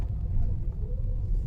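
Motor vehicles rumble in a steady low drone during a TVS bike rally held for a new showroom opening, a dense, continuous engine hum with no clear individual pass-bys.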